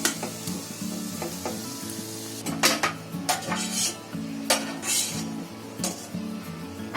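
Onions fry in hot oil for prawn biryani, a loud continuous sizzle close by, broken by repeated clinks and scrapes of a utensil stirring in the pan.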